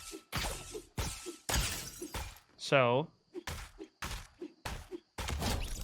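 Repeated sharp shattering impacts of a Fortnite pickaxe striking opponents, several hard crack-like hits in quick succession with a wobbling tone in between, bat-like in character.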